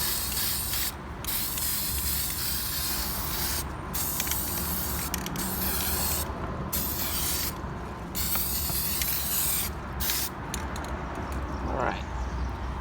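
A spray can hisses steadily as it coats a craft object in an even layer of paint, held about ten inches from the surface. The loud, close spray comes in long bursts separated by short pauses.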